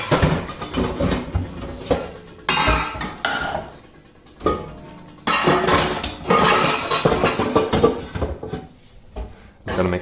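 Pots and pans clank and rattle in a home kitchen while lasagna is prepared, loud close bursts of metal knocks and clinks separated by short quieter gaps.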